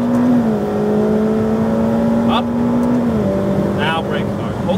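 Ferrari F8 Tributo on a race track, its engine a steady loud drone that holds pitch, drops as it shifts, then climbs again under acceleration, with a voice talking over it.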